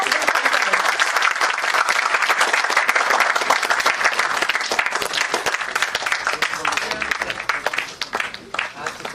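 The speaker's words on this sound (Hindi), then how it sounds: "तालियों में कोई कमी ना हो" A conference audience at a National Conference on NEP 2020 gives sustained, vigorous applause that holds strong for several seconds before gradually thinning out near the end.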